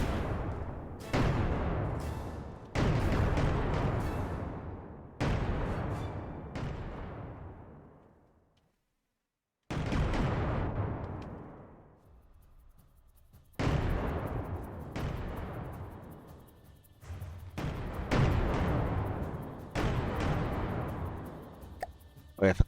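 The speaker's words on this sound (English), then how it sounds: "And guns do seem to be nice and accurate. These are the shells they're firing anyway." Ship guns in the naval game From the Depths fire shells in a series of heavy booming blasts, each with a long rumbling decay, spaced a few seconds apart with a brief lull midway.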